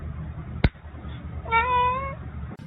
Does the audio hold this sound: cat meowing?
yes